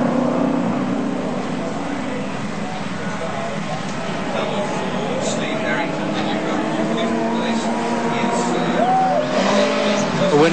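Touring race cars racing at Surfers Paradise in 1984, steady engine drone in the background under continuous race commentary.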